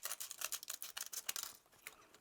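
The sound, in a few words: scissors cutting around a foil heart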